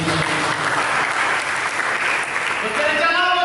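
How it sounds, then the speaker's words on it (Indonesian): Church congregation applauding during an Indonesian sermon, a dense, steady wash of many hands clapping that holds for the whole stretch, close and loud, with a few voices audible through it. "Kita berikan tepuk tangan"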